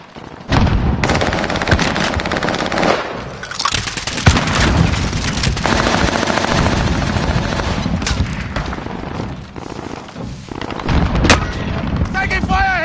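Sustained video-game gunfire and heavy booming shots in a PS4 combat match, dense and loud throughout with near-continuous bursts, some brief dips, and game voice chatter mixed underneath.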